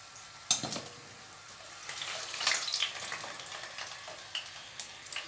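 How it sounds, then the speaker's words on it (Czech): Potatoes fry in oil in a pan, a soft crackling sizzle with scattered pops and a brief stirring clatter, fairly quiet and close with no talk. "Ale trvá to dlouho, než se ty brambory, bramburky prosmaží."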